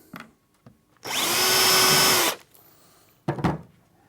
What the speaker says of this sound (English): press down on your back rail and pre-drill it